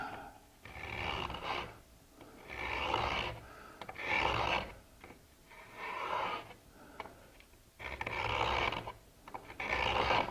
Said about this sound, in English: you can use the edge of the router bit a little bit as a scraper